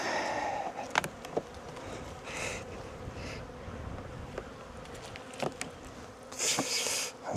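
Honey bees buzz in a dense, continuous drone around an opened horizontal Langstroth hive during a fall inspection, with individual bees zipping close by now and then.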